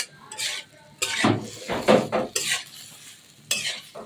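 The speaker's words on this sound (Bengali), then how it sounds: "আলুটাকে অল্প কিছুক্ষণ নাড়াচাড়া করতে হবে।" A utensil stirs cut potatoes with spices in a pan for a fish curry, producing bursts of scraping and clinking against the metal over a light sizzle, in uneven strokes close up.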